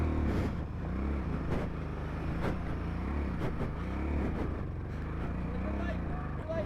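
A motorcycle engine drones and revs under throttle on a ride through Spiti Valley, its pitch swinging up and down in waves while riders shout and talk over it, with gusts of wind noise.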